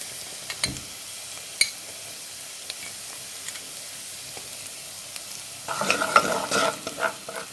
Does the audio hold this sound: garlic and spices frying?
yes